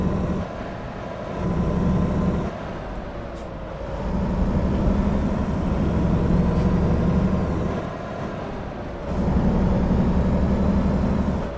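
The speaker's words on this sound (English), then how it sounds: "I got to get used to that sound of that engine." A heavy truck engine in American Truck Simulator drones and revs in cycles, the low rumble swelling and easing as it moves through its 12-speed transmission.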